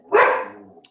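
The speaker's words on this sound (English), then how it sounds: "Sorry for the dogs in the background." One loud, close dog bark, then a fainter short yip right after, with no talking in between.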